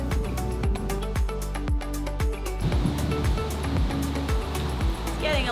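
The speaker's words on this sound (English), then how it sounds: "Getting a little windier." Hurricane wind gusting hard in the Florida Keys, a loud, continuous roar with rhythmic low buffeting thumps that swell and ease over several seconds.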